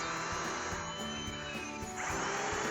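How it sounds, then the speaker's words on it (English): A power drill grinds steadily into 1/8-inch-thick steel, a continuous high whine with a slight shift in pitch near the end, close and loud. "You drill the holes with increasing size bits."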